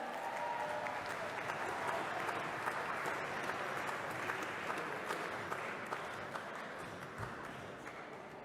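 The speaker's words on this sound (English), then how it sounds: "More clapping." A large banquet audience applauds steadily as the Wine Communicator of the Year walks up to collect his award, a dense, continuous wash of clapping at moderate level that carries on unbroken for the whole stretch.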